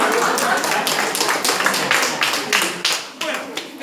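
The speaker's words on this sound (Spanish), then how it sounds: "¡Fuerte el aplauso!" Brief burst of applause from attendees at a health-services training session on patients' rights and duties, scattered claps rising and falling over about four seconds with voices mixed in.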